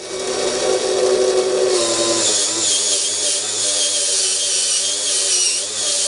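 A Slot.it GT40 rubber slot car tyre being beveled on its inside edge during truing, giving a steady high whirring grind from a spinning motor with a rasping rub, loud and close, no talk.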